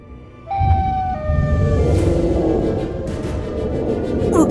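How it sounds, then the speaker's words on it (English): A loud, shrill siren-like wail from the Siren Head creature in Minecraft sweeps in suddenly and holds at length over a dense rumbling backdrop, close and piercing. "Siren Head turned on its own creator, causing her body to burst from the high-pitched sound."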